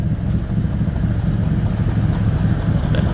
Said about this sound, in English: Hear the V8.